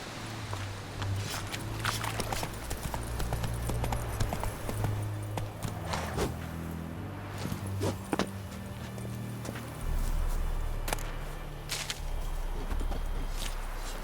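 Clip-clop hoofbeats of Roach, Geralt's horse in The Witcher 3: Wild Hunt, a steady trotting rhythm running throughout over a low ambient drone, with no talk.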